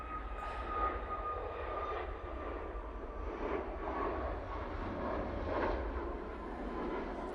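A TUI Boeing 737 MAX 8 departs from Manchester Airport, its jet engines making a continuous distant rumble and roar that swells and fades a little, with no talking.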